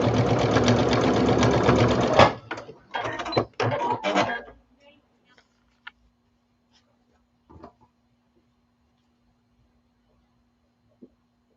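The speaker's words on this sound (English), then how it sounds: "So I'll get all of these sewn into rows, the 9 patch." A sewing machine stitches 9-patch quilt rows in a fast, loud, continuous whir for about two seconds, then runs in short bursts and stops, followed by a few faint clicks and handling noises in the quiet.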